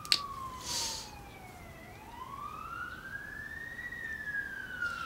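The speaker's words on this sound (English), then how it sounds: "I live on a busy street. And so, yeah, you're going to hear sirens" A police siren wails in slow rising and falling sweeps, moderately distant, over a low rumble of busy street traffic.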